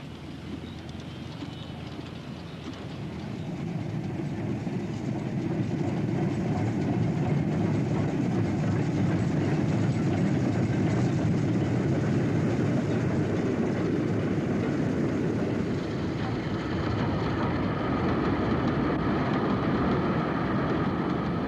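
Two double-headed BR 9F steam locomotives haul a heavy eastbound oil train at Springwood, a broad rumbling roar that swells after a few seconds and holds steady, then eases slightly near the end.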